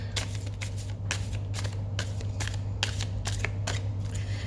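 Playing cards being shuffled in repeated quick riffles, a crisp papery burst about every half second, steady and close, over a low constant hum.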